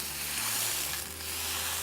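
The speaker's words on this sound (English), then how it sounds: "can you hear the sizzling sound?" Bread frying in a pan gives a steady, close sizzle that holds at an even level throughout, with no voices.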